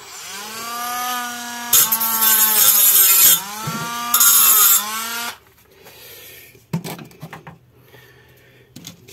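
A small power tool whines as it removes a tiny burr from stainless steel wire, with two harsh bursts of grinding, then it stops and only faint handling clicks remain; close by, with no talking.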